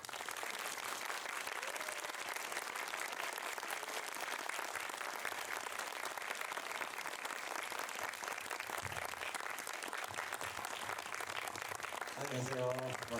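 An audience at the Busan International Film Festival applauds warmly to welcome a film director on stage, a dense, continuous wash of clapping from a large crowd that carries on throughout.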